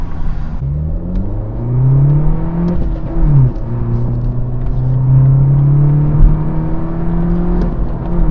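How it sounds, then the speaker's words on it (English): A Ford Fiesta engine changing down through the gears towards a roundabout, revs swooping up and down in several distinct steps, a close, steady in-car drone with no talk. "Down through the gears to the roundabout."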